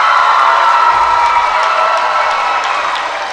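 Crowd at a boys varsity high school basketball game cheering and clapping for Mount St. Joseph, a steady wash of applause and voices filling the gym.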